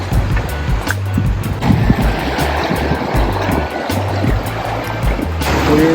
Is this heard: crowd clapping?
no